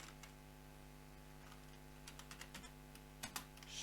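Sparse keystrokes on a computer keyboard, typed while entering and formatting text in an online store editor: a few soft, quick clicks arrive in small clusters, faint against a steady low electrical hum.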